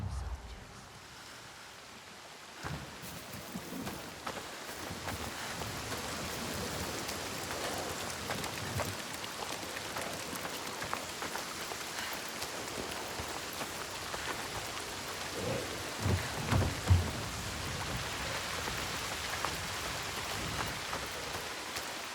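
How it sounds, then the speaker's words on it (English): Steady, heavy rain pours down in the video game Senua's Saga: Hellblade II, a dense continuous hiss of drops hitting surfaces with gusts of wind, starting after a brief quieter moment and continuing unbroken. "The rain never stops."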